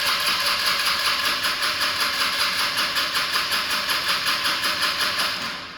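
A Kia Stonic KX1 cranks on a strong battery without firing, the starter motor turning the engine over in a fast, even, loud pulsing rhythm that never catches. It winds down at the end.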